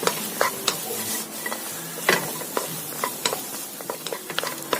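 Carrots and beans stir-frying in a very hot wok, a steady sizzle broken by repeated scraping and clanking strokes of the stirring utensil, close and loud.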